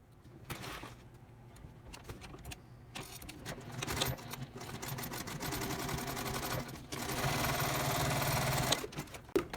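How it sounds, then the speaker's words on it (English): A sewing machine stitches a seam across the bottom of a tote bag in one continuous run that grows louder and steadier toward the end, with a faint clunk as it stops. "I'm going to stitch 1/4 inch across the bottom here"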